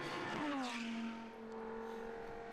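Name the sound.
race cars on track at Braga circuit race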